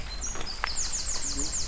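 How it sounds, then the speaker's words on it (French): Birdsong in an outdoor garden: a series of repeated high chirping notes in a quick descending pattern, moderately close, over steady background noise. "C'est le bruit des oiseaux que j'aime bien."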